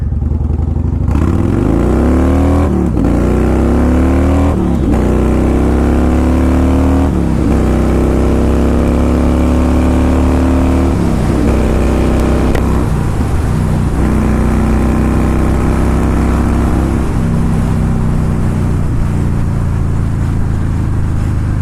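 A Yamaha Warrior motorcycle with a 102 cubic inch engine accelerates hard through the gears, its loud, close exhaust note rising in pitch, dropping briefly at each shift and climbing again toward highway speed.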